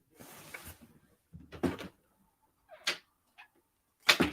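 A few sharp knocks sound at a door: one cluster near the start and isolated raps later, clear and fairly close in a quiet room, with brief indistinct voice at the start.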